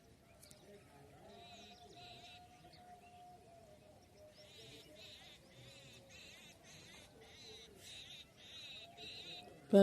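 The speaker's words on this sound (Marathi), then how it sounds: "तिकडं टॉय टॉय पक्ष्यांचे आवाज" Faint birds chirp in quick repeated bursts in the distance, over a quiet village morning background with low humming tones.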